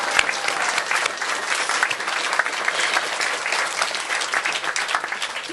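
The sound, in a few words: audience applause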